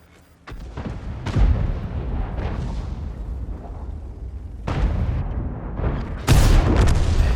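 Tank cannon shots in a tank video game, an Object 430 II firing at a Scorpion, come as several loud, deep booms with heavy rumbling tails, the last blast sharpest and close.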